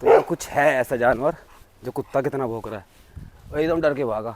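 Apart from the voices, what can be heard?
dog barking at night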